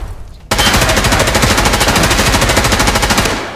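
Sustained automatic gunfire in Escape From Tarkov bursts in after a brief quieter moment, a loud, rapid, continuous rattle of shots that holds for about three seconds before easing off.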